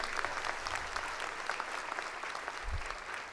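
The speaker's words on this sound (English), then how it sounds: "Let's give another round of applause for Dr." A college commencement audience giving a round of applause, a sustained, even wash of many hands clapping from a large crowd, distant and fairly quiet, with no talking over it.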